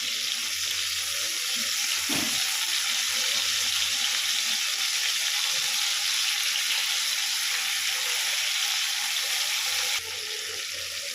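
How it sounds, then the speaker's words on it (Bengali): Stingray fish pieces fry in hot oil in a pan for a fish masala curry, giving a loud, steady, close sizzle with one brief knock early on and no talk. "এবার একইভাবে উল্টো সাইডটাও আমি ভেজে নেব"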